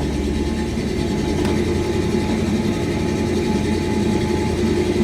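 A 1984 Chevrolet engine idles in a steady, low rumble, a continuous even drone with a faint mechanical hum and no talk over it.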